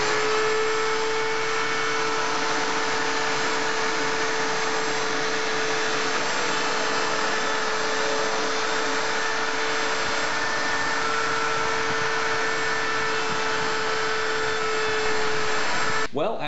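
A router running continuously at high speed over an end-grain wood cutting board during a light cleaning pass, a loud, steady whine that holds for the whole stretch before cutting off abruptly at the end.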